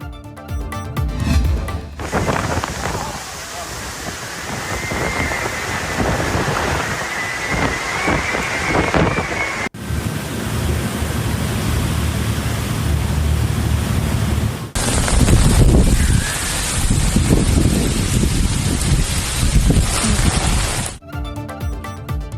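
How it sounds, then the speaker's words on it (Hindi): Heavy rain and thunderstorm weather in Lahore: a loud, continuous hiss of downpour mixed with gusty wind noise runs through several cut segments, with no clear speech. "लाहौर में भी तूफान, बादोबारा के साथ मूसलाधार बारिश।"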